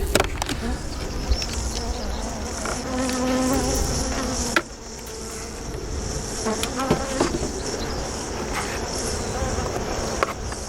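Dense, steady buzzing of many honeybees close by at an open beehive, a continuous hum with occasional louder passes and faint murmurs in the background.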